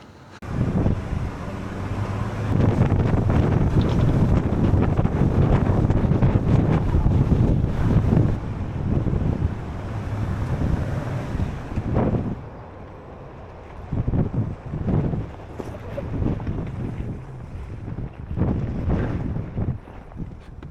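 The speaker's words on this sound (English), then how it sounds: "Yeah, the wind picked up." Strong mountain wind buffets the microphone in loud, roaring gusts that swell and drop over several seconds, near and continuous, with no voices.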